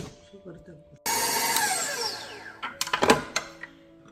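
An electric mixer whirs loud and close as milk is beaten into a loose cake batter for waffle cakes, the motor starting abruptly and running steadily, then stopping amid clattering bowl knocks, with talk before it starts.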